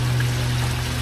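Water trickles and pours steadily through a Dainichi shower pond filter, a continuous close splashing flow with a low hum beneath it.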